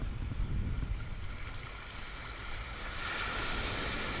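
Ocean waves wash onto a beach in a steady broadband rush, nearby and moderately loud, with a surge building in the final seconds and no voices.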